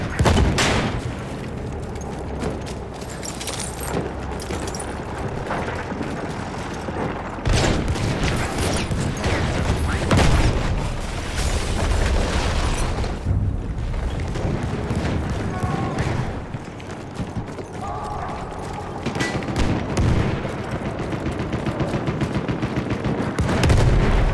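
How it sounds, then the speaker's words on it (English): Battle din in an online shooter: continuous loud gunfire and booming explosions, including a thrown grenade going off, with dense overlapping shots throughout and soldier voices calling out in French under the fighting. "Je lance une grenade!"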